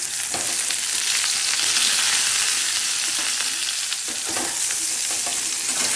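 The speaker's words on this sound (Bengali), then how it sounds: "এভাবে বেগুনগুলোকে ফ্রাই করতে হবে।" Eggplant slices fry in hot oil with a steady, dense sizzle that holds loud and close throughout, with a few soft crackles and scrapes from turning the pieces.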